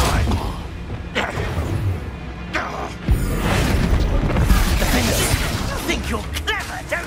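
A Bombarda explosion spell in Hogwarts Legacy combat, a deep booming blast amid ongoing battle noise, with voices shouting spell names over it.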